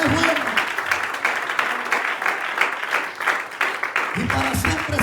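Church congregation clapping loudly and steadily through the whole stretch, a dense wash of hands with voices and music mixed underneath.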